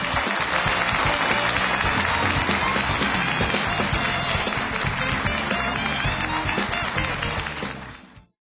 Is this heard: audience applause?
yes